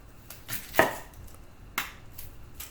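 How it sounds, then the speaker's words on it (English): Knife slicing half a sweet onion on a board for street tacos, a few sparse cuts with one louder chop near the start of each pass, close and with no talking. "sweet onion, half of that, and we're going to just slice them up."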